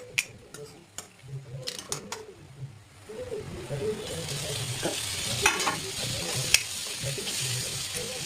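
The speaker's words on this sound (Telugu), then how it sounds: "రొయ్యలు ఈ మంచి ఆయిల్లో వేయించుకొని పక్కన పెట్టుకోవాలి" Small dried prawns frying in hot oil in a pan with tomato and coriander, giving a steady close sizzle with sharp utensil clicks and taps early on and faint voices murmuring underneath.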